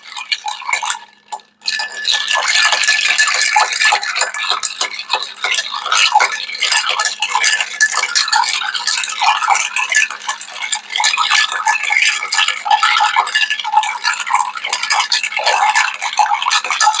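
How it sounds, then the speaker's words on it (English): Ice clinking and rattling steadily in a mixing glass as a cognac Sazerac cocktail is stirred, a bright, continuous close-up jingle lasting many seconds with no talking. "you're going to want to stir this 15, 20 seconds or so, basically just until it's nice and combined and chilled"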